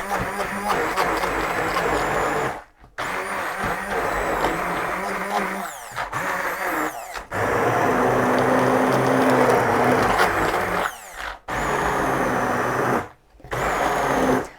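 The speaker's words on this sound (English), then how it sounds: "You can try it in whatever blender you got, but this works best for me." An old blender whirs loudly in sustained bursts through gluten-free sourdough bread dough, stopping briefly a few times before revving up again, with a groaning, straining motor tone.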